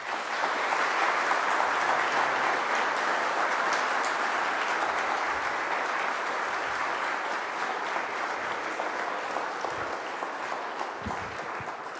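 A lecture audience applauding steadily as the speaker Bill McGurn is welcomed to the podium, dense sustained clapping from many hands throughout, fairly close and loud, with no talk over it.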